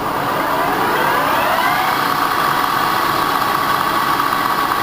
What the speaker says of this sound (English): I just want to let the viewer hear the startup of the machine.